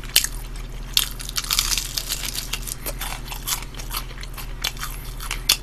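Crunchy fried chicken, including red kkanpung, spicy kkanpung and plain fried pieces, is bitten and chewed close to the mic in a mukbang, giving sharp crackling crunches at irregular intervals with wet chewing between bites and no talking.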